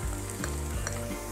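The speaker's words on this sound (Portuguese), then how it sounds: "Eu vou adicionar 5 dentes de alho picado" Minced garlic, five cloves, sizzles in a soup pot over caramelized onions, a steady close frying hiss with soft stirring scrapes and no talk.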